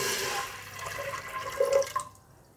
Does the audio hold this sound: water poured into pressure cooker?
yes